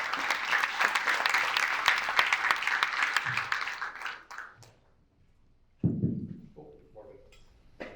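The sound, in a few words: audience applause for a speaker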